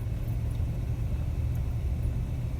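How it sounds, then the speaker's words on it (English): Steady low engine and road rumble from a car driving on a road near Yosemite, heard from inside as a continuous, even drone with no talking. "we're gonna hop back in the car and head on to our next stop"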